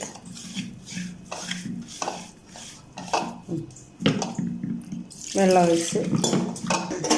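Water splashes and trickles into a pan of prawns with turmeric in short bursts with light clinks of cookware, and a voice talks briefly over it.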